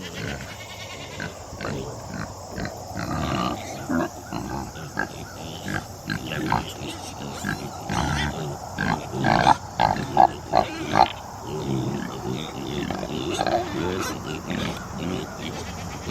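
Pigs in a farm pen grunt and snort intermittently over several seconds, moderately close, while a person talks over them.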